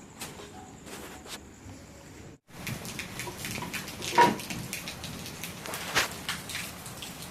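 Scattered raindrops fall at night in Khambhalia, a faint patter over low background hiss, with a short cut to silence before a slightly fuller drizzle with occasional louder drops.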